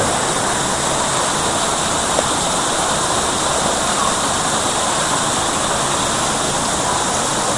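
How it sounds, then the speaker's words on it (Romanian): A zoo waterfall produces a continuous, even roar of falling water that stays steady and fairly loud throughout, with no voices over it. "ajuns la cascadă"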